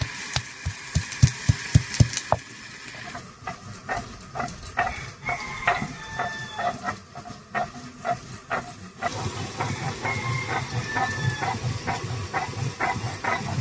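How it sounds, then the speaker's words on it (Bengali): Whole cumin and a piece of ginger are ground into a spice paste, with rhythmic close thuds and scraping strokes of the grinding, then a steady hissing rasp. "দিয়ে দিচ্ছি 1 চামচ মতো গোটা জিরা আর 1 টুকরো আদা, একসঙ্গে করে বেটে নামিয়ে নিচ্ছি।"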